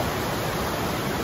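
A small waterfall spills into a trout stream, giving a steady, close rushing hiss of falling water with no voices.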